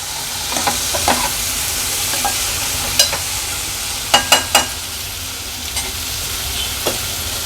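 Pumpkin pieces sauté with masala in a pan for spicy toor dal, with a loud, continuous sizzle and sharp spoon scrapes and clinks, including a quick cluster of three in the middle.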